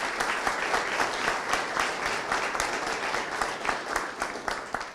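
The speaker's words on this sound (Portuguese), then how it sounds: "Uma salva de palmas para todos eles." Audience applause from a crowd at a press conference, a steady dense wash of clapping lasting throughout at moderate volume with no talk over it.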